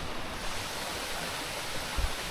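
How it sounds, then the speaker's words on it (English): Smith Falls in Nebraska, the state's tallest waterfall, pours as a steady, broad, faint rushing hiss from a short distance, with no talk and only a brief low thump near the end. "That is the tallest waterfall in Nebraska."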